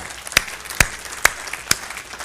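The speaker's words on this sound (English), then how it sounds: "you're in a great church when they're clapping for announcements" A church congregation claps four loud, sharp beats at a slow, even pace, each one standing out clearly over a quiet room.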